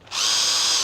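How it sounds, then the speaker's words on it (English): A power drill bores into wood in one short burst, spinning up quickly and holding a loud, close, high whine. "So first I need to drill a hole in the wood for the center part of the Amphenol connector"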